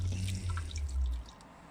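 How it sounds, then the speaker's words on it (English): Hot water at about 76 degrees runs over grain during the sparge on a beer brew day, giving a steady trickling and dripping splash with a low rumble underneath that eases off near the end. "now I'm going to sparge with some about 76 degree water."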